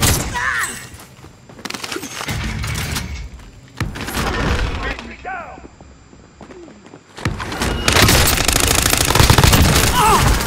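Video game gunfire in bursts of rapid automatic shots and thuds, several loud volleys separated by brief lulls, with players talking over the action.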